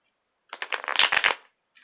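A deck of tarot cards riffled and bridged in one quick burst of rapid flutters, close and fairly loud, followed by a brief soft shuffle.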